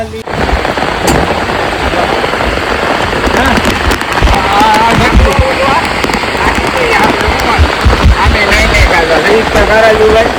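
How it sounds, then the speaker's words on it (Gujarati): Steady heavy rain pours throughout, a dense hiss with sharp patters and drips, loud and close, with voices faintly mixed in. "વરસાદ આવી ગયો છે"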